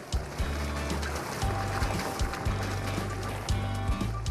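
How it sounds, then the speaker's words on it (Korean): Shallow water laps and sloshes on the Bolivian salt flat, with a steady watery wash and low rhythmic surges, close and moderate in level, no voices. "찰랑거리는 물소리가 들리죠?"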